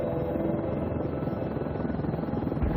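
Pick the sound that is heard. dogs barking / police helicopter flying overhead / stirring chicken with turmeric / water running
police helicopter flying overhead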